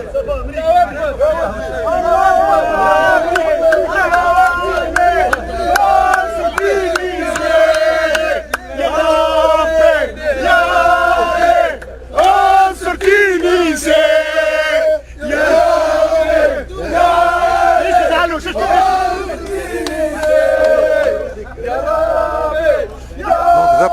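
Tunisian football supporters chanting before a match, a loud, close mass of voices in rhythmic unison with repeated phrases and brief pauses, continuing throughout.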